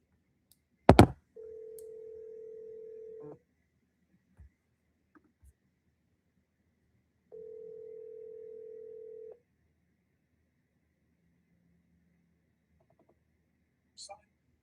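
An outgoing telephone call rings back in the earpiece with two steady two-second tones several seconds apart. A sharp click comes before them, and quiet gaps follow.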